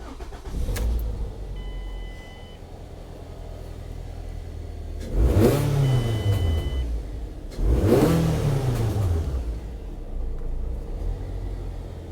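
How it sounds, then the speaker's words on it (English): A Ford ST150 engine cranks over and fires up, with two strong revs rising and falling against a steady idle rumble, close and loud, and no talking over it. "So I've just turned the ignition on, started the car up"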